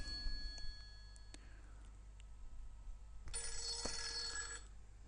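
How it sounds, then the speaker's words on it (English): A telephone bell rings in two bursts, the second louder and more sustained, over a low steady background hum. "The phone is ringing here."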